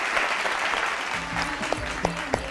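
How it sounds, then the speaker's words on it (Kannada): An audience claps loudly at a televised Raita Ratna agriculture award ceremony honouring Syed Gani Khan and his family. The applause is a dense, steady roar with a few voices and faint tones underneath. "ಮತ್ತೊಮ್ಮೆ ಜೋರಾದ ಚಪ್ಪಾಳೆ ಸೈಯದ್ ಹನಿ ಖಾನ್ ಹಾಗೂ ಕುಟುಂಬಕ್ಕೆ"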